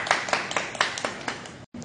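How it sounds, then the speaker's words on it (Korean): Brief scattered clapping from a small group of trainers and members at a Reebok XTM CrossFit gym, a few close claps over a couple of seconds with faint talk mixed in, ending abruptly. "선생님들 박수 한번 부탁드립니다."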